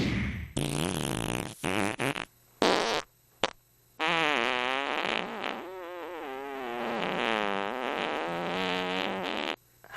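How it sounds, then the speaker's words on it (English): A cartoon-style run of farts plays alone, starting with several short separate blasts, then one long, wobbling, drawn-out squeal that stretches for several seconds before cutting off. "More farts."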